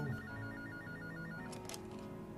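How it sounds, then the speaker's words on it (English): A telephone rings in the Gray Matter video game, with a repeating electronic trill in short bursts over a quiet background and a brief higher click near the end. "Pick up the phone."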